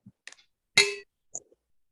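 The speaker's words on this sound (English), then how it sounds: "It was a very bad gong." A single metallic gong or bell strike opening a morning meditation session, heard as one bright ringing clang with a quick decay, followed by a couple of faint clinks, all in a quiet room.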